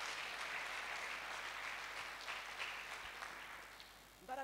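Dense, steady clapping from a church congregation at a Sunday service fills the clip at a moderate distance, easing off toward the end as a voice begins.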